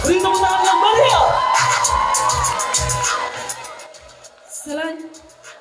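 Audience at a Batik Garutan fashion show during the Garut Festival claps and cheers, a loud crowd roar of whoops and shouts that swells and fades, with a live band or amplified speech mixed beneath.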